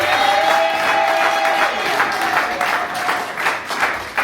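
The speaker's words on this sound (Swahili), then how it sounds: "Shangilia Bwana makofi mengi." A church congregation claps and cheers in praise, with dense applause filling the space while a sustained tone, likely an organ or keyboard, rings beneath the first half.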